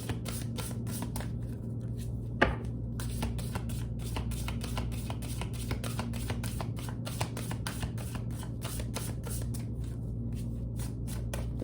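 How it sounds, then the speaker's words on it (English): Tarot cards being shuffled close up: a rapid, continuous run of crisp riffling flicks with one sharper tap early on, steady and loud over a low background hum, with no talking. "we'll do like a couple more shuffles"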